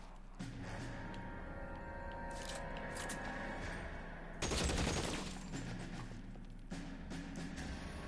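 A shootout in L.A. Noire brings rapid bursts of gunshots, with scattered cracks and one dense, loud volley near the middle, over a steady background hum.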